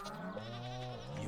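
A goat in a farming video game gives one long, wavering bleat, close and clear and filling the whole moment.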